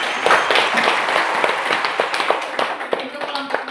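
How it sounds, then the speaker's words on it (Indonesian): Classroom applause as a student group finishes presenting at an elementary school, a dense patter of children's clapping mixed with chatter and voices throughout. "Beri tepuk tangan."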